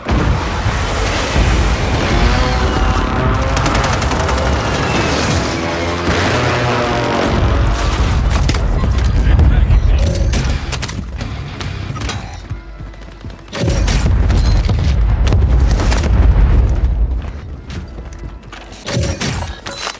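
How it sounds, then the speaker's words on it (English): Mortar strike in Call of Duty Warzone, a loud, sustained barrage of booming explosions and thuds rolling on for many seconds, close and dense, with a brief lull before another heavy burst. "Friendly mortar strike."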